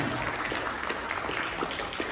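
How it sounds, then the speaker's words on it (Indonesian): Audience applause after a talk by Bu Elvi at a seminar on young voters, a steady wash of many hands clapping at moderate level, heard alone without voices. "Sekali lagi beri tepuk tangan yang meriah dari Bu Elvi"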